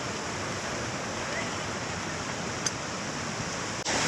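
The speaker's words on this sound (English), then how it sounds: "Apparently you can slide down that waterfall right there." Waterfall on a river in Shenandoah National Park, a steady broadband rush of falling water that stays loud and unbroken from start to end, with no pause and nothing else standing out above it.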